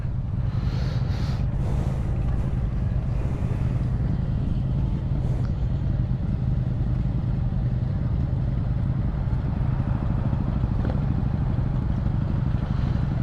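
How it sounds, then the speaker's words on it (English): Motorcycles idle and rumble after a group ride while riders park them, a steady, low, continuous engine drone, fairly close, with occasional faint clatter and no clear talking. "Everyone trying to get their bikes parked here."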